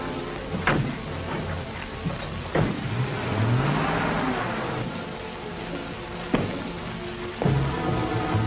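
A car engine revs and pulls away in an old 1939 film scene, with a few sharp accelerating bursts and a steady mid-pitched motor drone throughout, fairly close and loud with no talk.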